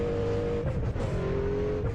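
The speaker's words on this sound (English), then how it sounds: "All these Formula 1 cars driving around now." Formula 1 cars in a racing video game, a steady engine whine with rising revs and a car sweeping past, continuous and fairly loud throughout with no talk.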